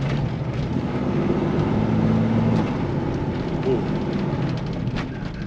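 Engine of a Jeep Cherokee XJ Limited revving under acceleration, a loud continuous droning roar with a steady low hum that swells and holds, heard close up with no talk over it.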